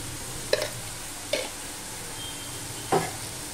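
Spinach with sesame sizzles steadily in a pan, broken by three scraping stirs, the last one strongest, with no talk.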